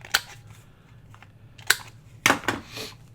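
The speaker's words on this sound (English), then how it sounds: "Let's go ahead and trim the corners." Paper trimmer or scissors cutting the corners of vellum paper, with three or four sharp, close snips separated by short pauses in a quiet room.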